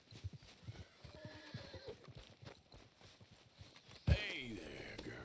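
A horse in Red Dead Redemption 2 whinnies and snorts amid clopping hooves and soft rustling, ending with a sudden loud thump.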